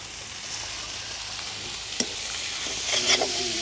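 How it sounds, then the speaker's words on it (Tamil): Crushed garlic, ginger and black pepper sizzle steadily in a hot pan, with a sharp tap near the middle and a louder burst of frying and stirring toward the end. No one speaks. "இதோட நாங்கள் இடித்து வச்சிருக்கிற உள்ளி இஞ்சி அதோட நச்சீரா மிளகு எல்லாத்தையும் சேர்த்துக்கொள்வோம்"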